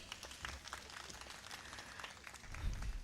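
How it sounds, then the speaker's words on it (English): Fairly faint scattered applause from an audience after a performance at a hospital's tenth-anniversary celebration, uneven claps with a low thump near the end. "Let us clap for them again."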